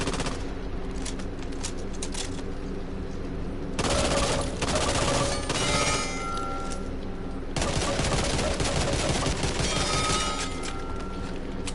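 Uzi gunfire in the shooter game Back 4 Blood, three long rapid automatic bursts separated by brief pauses, loud and close, with no voices heard.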